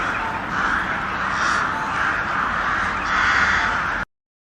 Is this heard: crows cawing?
yes